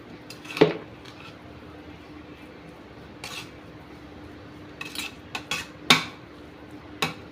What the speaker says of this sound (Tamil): இப்போ ஒரு கிண்டு கிண்டி விட்டுக்கிறோம்